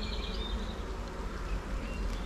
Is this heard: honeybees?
yes